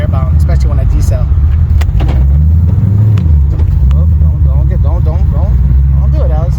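A Ford GT500 with a face-plated T56 transmission drives on a street, its steady, loud low engine rumble continuing throughout while a person talks over it.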